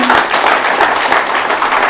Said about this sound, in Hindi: आप सभी के लिए जोरदार तालियां